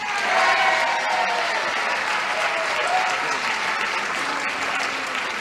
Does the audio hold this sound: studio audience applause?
yes